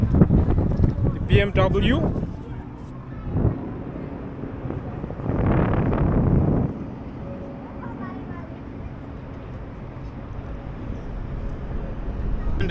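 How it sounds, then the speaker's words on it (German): Wind buffeting a microphone outdoors in Munich, Germany, in heavy rumbling gusts around someone talking, the strongest bursts near the start and middle. "It's now probably a little windy."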